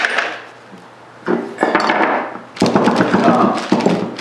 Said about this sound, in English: So I'm just taking these binding screws out